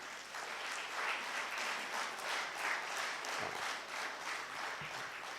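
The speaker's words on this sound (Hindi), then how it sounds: "आपकी बहुत सी तालियों, देखिए तालियों में कमी ना कीजिएगा" Audience applause at a poetry recital, a mushaira, with sustained even clapping from a moderately distant crowd lasting several seconds without talk.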